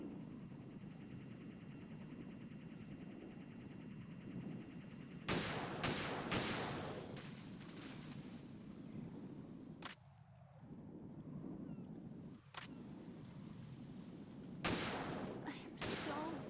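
Gunfire in Metal Gear Solid 2, a cluster of sharp broadband shots near the middle followed by a few isolated bursts further on, over a steady low background rumble.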